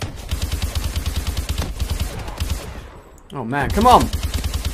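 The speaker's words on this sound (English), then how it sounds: "We're getting shot from every direction here." Gunfire in a first-person shooter video game, rapid shots crackling steadily from several directions throughout, with a voice talking briefly near the end.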